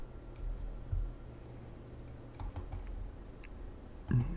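Scattered computer keyboard key presses and clicks during spreadsheet work, soft and close, a few isolated taps followed by a quick cluster near the end over quiet room tone.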